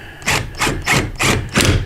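An impact driver hammers a fastener into a floor in four rapid rattling bursts, each a loud close clatter with short gaps between.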